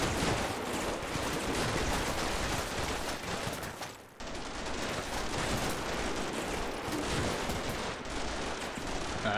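Sustained distant gunfire and area fire in the Combat Mission Shock Force 2 war game, a dense continuous crackle of shots with a brief dip midway, no voices.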